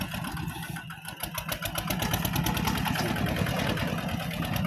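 A modified farm tractor's engine runs close by with a steady, loud, throbbing idle and no pauses. It is alone, with no talk over it.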